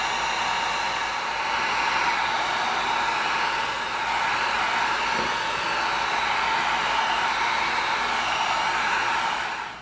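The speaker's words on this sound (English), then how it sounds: "We're going to get our heat gun going." Heat gun blowing steadily over EVA foam while sealing it, a close, constant airy roar with a hot fan whine, running unbroken for the whole stretch with no talk.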